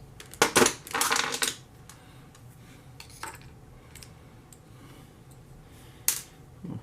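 Small metal screws being fished out of a 1/8-scale Arrma Kraton EXB Extreme Bash Roller RC car chassis produce a close burst of rattling, scraping metallic clatter early on, then scattered clicks and a final sharp tap.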